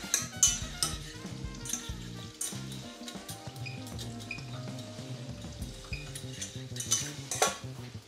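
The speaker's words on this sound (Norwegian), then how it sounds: "da begynner smøret å smelte" Butter melts and sizzles in a pan for mac and cheese, a steady soft frying hiss with occasional utensil clinks and stirring, under background music.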